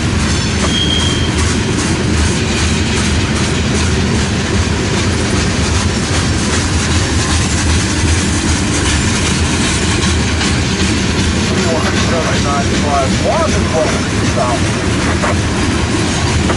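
A mile-long freight train rolls past nearby, loud and continuous, with rhythmic clickety-clack of wheels and occasional metallic squeals toward the end.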